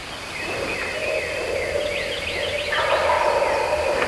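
A wild turkey gobbles on Mississippi public land: a rattling gobble at moderate distance rises over a quiet outdoor background, with a few gobbling bursts in the middle of the stretch.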